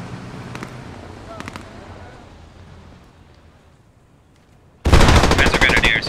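Gunfire erupts during a major assault in the World War II shooter Post Scriptum, a sudden loud, dense burst of rapid shots after several quiet seconds of distant ambience.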